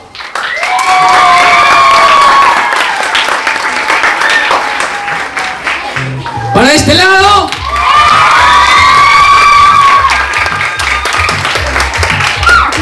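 Lively crowd at a gift-giving event applauding and cheering loudly, with children shouting and whoops over continuous clapping, a host's voice breaking in briefly midway before the cheering swells again.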